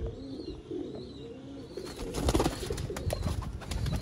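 Rooftop breeder pigeons coo softly in low, rolling calls, with rustling and brief fluttering noises growing busier partway through, fairly close.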